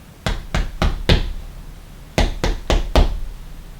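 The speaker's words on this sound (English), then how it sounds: "As evening come down, Wasp come fi bite him and rap at Anancy door." Sharp knocks sound on a wooden door in a narrated Jamaican Anancy folk tale: a loud, close set of four raps, a pause, then another set of four, with no voices.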